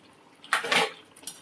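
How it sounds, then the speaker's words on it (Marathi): A couple of brief metallic scrapes of a spoon stirring masala in a pot for paneer biryani, close by, with quiet between them. "परत एकदा हलवायचं थोडंसं."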